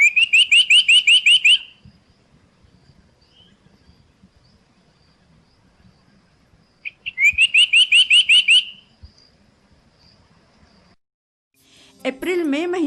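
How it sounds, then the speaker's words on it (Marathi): A male black-headed cuckooshrike sings two loud, rapid bursts of repeated whistled notes, each lasting about a second and a half, over a quiet background of faint insects. A voice starts speaking at the very end. "काळ्या डोक्याचा कोकिळ कसाई"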